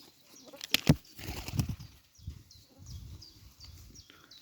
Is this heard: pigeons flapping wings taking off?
yes